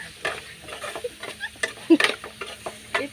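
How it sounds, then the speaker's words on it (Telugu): Fish curry with drumsticks is stirred in a pot, making close, intermittent scrapes and wet clicks of a spoon in an irregular rhythm, over a faint background hum. "తర్వాత తిప్పుకోవాలి. బాగా మగ్గనివ్వాలి."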